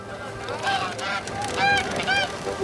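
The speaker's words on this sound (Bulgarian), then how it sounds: "Каква прекрасна гъска!" A goose honks repeatedly in short, nasal calls close by, several honks running together over a steady outdoor background.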